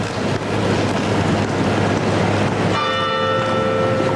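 Church bells tolling outside Grimaldi Palace in Monaco during a funeral cortege, heard over steady wind and outdoor rumble, with a clear ringing bell tone emerging late in the stretch.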